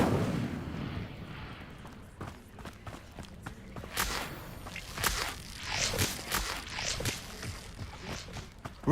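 Incendio fire spell cast in Hogwarts Legacy, a burst of whooshing, crackling fire blasts and sharp impacts in quick succession, loud game effects with no talk.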